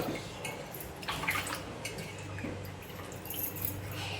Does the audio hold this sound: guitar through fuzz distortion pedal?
no